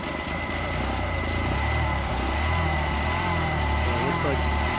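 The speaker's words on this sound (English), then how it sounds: "I can put it in gear here. And rev it up." Boat outboard engine in forward gear, a steady, loud, close mid-pitched drone with a constant whine and no clear rise in revs.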